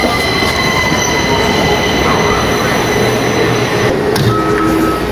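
Washington Metro train pulling into a station, with a loud continuous rumble of wheels on rail, high squealing brakes and a brief chime near the end.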